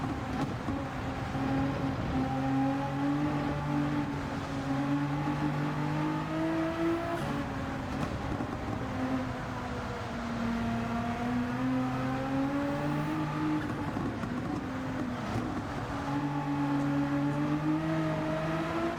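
A race car in a street race drones with its engine held at high revs, the pitch rising and falling steadily through several gear changes. The engine is heard alone and close, with a constant, even loudness.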